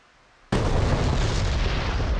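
An AGM-154C JSOW glide bomb dropped from an F/A-18C Hornet in the DCS combat flight simulator detonates with a sudden loud blast after a moment of near silence, then a heavy rolling rumble that sustains and slowly decays.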